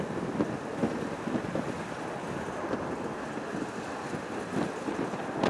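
Strong gusting wind buffets a microphone outdoors at a windy airport while planes are being watched, a continuous rough roar with irregular bursts and no talking.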